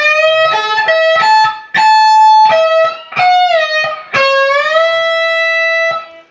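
Electric guitar lick from a song, played with slides up the neck in several bright, sustained phrases separated by short gaps, close and loud, with no talk.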